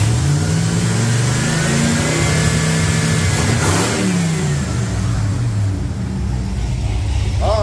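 A carbureted Ford F100 engine revs up and holds at high RPM, a loud, close, sustained roar that rises in pitch, wavers slightly and eases back near the end.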